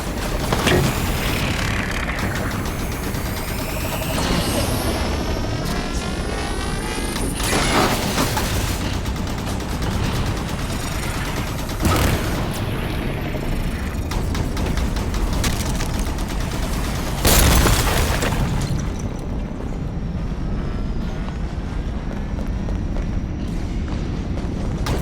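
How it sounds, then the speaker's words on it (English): Turret gunfire in the video game Halo 5: Guardians, dense bursts and heavy booms that roll on continuously at close range, with sharper blasts spiking through a thick, loud bed of battle noise. "Watch the fire from those turrets!"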